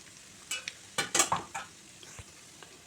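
Chicken pieces frying in oil with ginger-shallot paste, heard as a close sizzle broken by several quick stirring scrapes and clinks of a spoon against the pan, with no voices.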